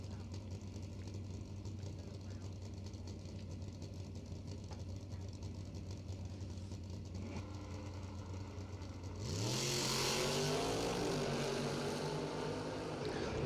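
Drag race between a 1968 Dodge Dart and a silver Chevrolet Monza in a door-car event: a steady distant engine drone with an announcer talking over it, then a loud burst of revving engines launching and pulling away near the end.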